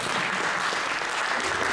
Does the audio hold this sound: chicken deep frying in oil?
no